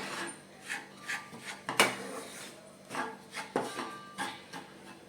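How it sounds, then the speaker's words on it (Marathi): Dried date (kharik) powder being stirred and roasted in a hot kadhai with the gas off, a steady rhythm of dry scraping strokes against the pan, close and fairly quiet, with one sharper scrape early on. "गरम कढईमध्ये सुरुवातीला आपण हे खारीक पावडर परतून घेऊया"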